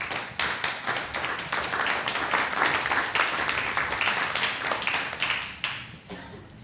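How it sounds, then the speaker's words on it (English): Sustained audience clapping at a Sioux Falls city council meeting, dense and fairly loud with sharp individual claps, holding steady for about six seconds before thinning out at the end. "I'm assuming they're not clapping for me"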